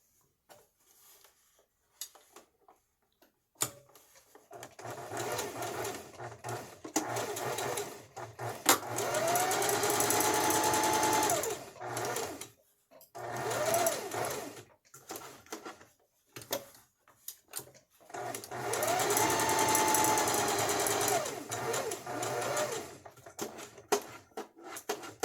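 A sewing machine stitching a zigzag pattern in several separate runs of rapid mechanical whirring and needle clatter, each lasting a few seconds, broken by short quiet pauses and faint handling clicks.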